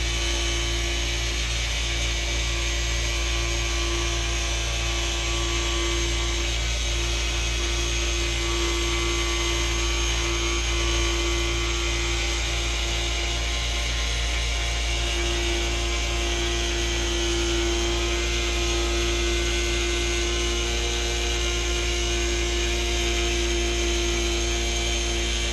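A V2 needle cutter machine working through a full sheet while breaking in a new, freshly oiled needle, giving off a loud, steady mechanical whine and hum that holds unbroken throughout.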